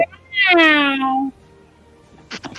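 A human voice imitates a cat, giving one drawn-out, rising-then-falling meow that is loud and close, followed by a short pause and brief rustling.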